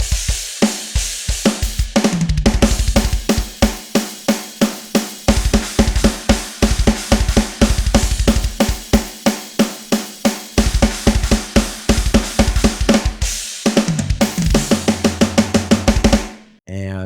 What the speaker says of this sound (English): And then the drum kit sounds like this.